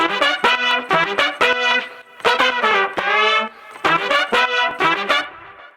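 Live trumpets in an Afro House mix, run through a Purple Audio MC77 parallel compressor, play short punchy stabs and bright sustained notes in a syncopated horn riff, loud and forward.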